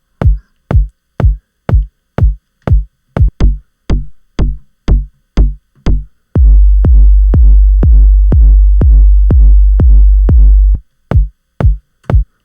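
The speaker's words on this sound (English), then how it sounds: "So you get a sense of what a drum synth sounds like." Synthesized drum pattern from a Logic Pro drum synth: steady sharp hits in a regular rhythm, then a long sustained booming bass drone with repeating clicks over it, then crisp hits again, loud and alone with no voices.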